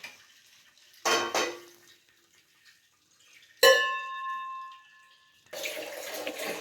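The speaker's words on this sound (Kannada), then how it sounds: "ಈಗ ಅಮ್ಮ ನೀರು ಬಿಸಿನೀರು ಅದು ಸಪ್ರೇಟ್ ಮಾಡ್ತಿದ್ದಾರೆ" Hot water drained off freshly boiled vermicelli (shavige) in a home kitchen: a clatter of the pot, a sharp metallic clang that rings out, then a steady rush of pouring water at close range.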